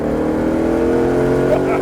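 A Ford Shelby GT500 Mustang at full throttle on a race track, a loud steady engine drone heard from inside the car with a slowly rising pitch.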